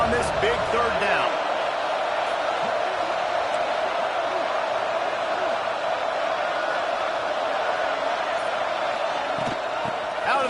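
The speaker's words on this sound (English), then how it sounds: "The crowd elevating its energy, willing this defense to get a stop on this big 3rd down." Roaring football stadium crowd during a Purdue versus Wisconsin game, a loud, sustained wall of cheering and noise urging the defense on a big third down, steady and dense throughout with faint thumps and voices mixed in.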